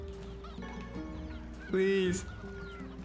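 A chicken in the video game NieR Replicant gives a few clucks, with one louder squawk near the middle, while someone talks over it.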